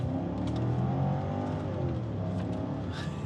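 A BMW X6 engine revs and accelerates, loud and close, with a steady throaty drone and rising bursts of throttle throughout, no talking over it.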